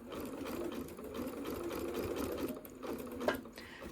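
A sewing machine stitching slowly along a quilt block to make a cushion cover: a close, continuous needle whir at an even pace, with a small clack near the end.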